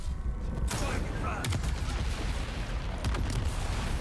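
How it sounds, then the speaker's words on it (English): Gunfire and explosions in the Dune Awakening game during a solo wave fight, a dense, loud barrage of bursts with sharper cracks near one and a half and three seconds. "Let's get this grenade in here."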